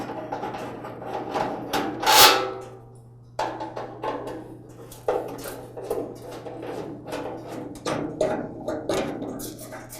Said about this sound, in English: Now remove this front support piece.